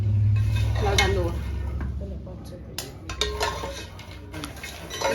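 Gond laddoo ingredients roast in ghee as a spoon scrapes and clinks around the pan, with a low sizzle beneath intermittent clatter and people talking nearby.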